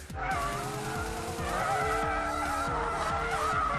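A McLaren 720S drifting with its variable drift control engaged, tires squealing in long wavering howls over a loud, revving engine that rises and falls in repeated surges, close and continuous throughout.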